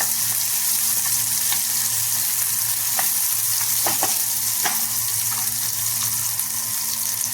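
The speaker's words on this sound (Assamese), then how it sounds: "আকৌ এবাৰ গোটেইখিনি মই হেতাখনে লৰাই দিছোঁ" Chopped onions and tomatoes sizzle in a hot pan under a steady frying hiss, while a spatula scrapes and stirs in several short, close strokes. No one speaks.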